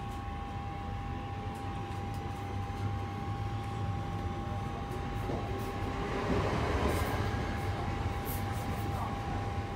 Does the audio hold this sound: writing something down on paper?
no